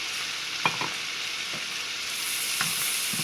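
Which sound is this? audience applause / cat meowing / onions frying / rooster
onions frying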